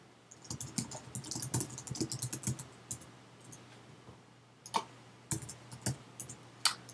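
Bursts of quick keystrokes on a computer keyboard as a sermon title is entered for a podcast upload, soft and close, with a pause midway before a few more scattered clicks.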